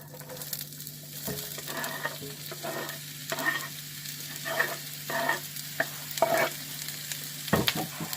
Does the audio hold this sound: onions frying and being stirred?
yes